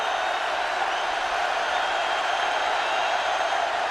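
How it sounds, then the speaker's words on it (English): A college football stadium crowd at Nebraska during a 2010 game against Western Kentucky, with the home team near the goal line, makes a continuous distant roar that stays even and steady without sharp peaks of cheering. "The crowd is back into it."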